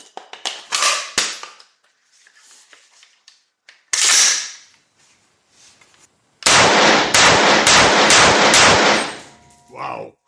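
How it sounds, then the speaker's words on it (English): An assault rifle fires five rapid aimed shots, a loud close cluster of sharp cracks in quick succession after some earlier scattered bangs and handling noise. "we will do 5 aimed shots, but with a high shot frequency, as high as I can do, in an aimed fashion"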